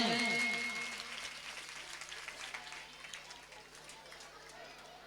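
Audience applause at a welcome ceremony, a broad wash of clapping that starts loud and slowly fades while someone speaks over it on a microphone.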